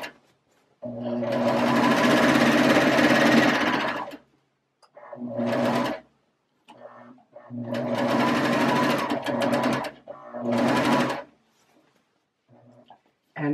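A serger stitches fabric for bowl cozies in loud, close bursts of rapid mechanical whirring, two long runs and several shorter ones separated by brief silences.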